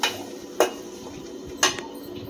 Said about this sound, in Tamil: எல்லாமே கலந்து நல்லா வதங்கட்டும்